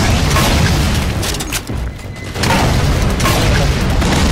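A fuel rod gun fires in Halo 4, a video game, as heavy sustained booming blasts, very loud and close, dipping briefly in the middle before roaring on.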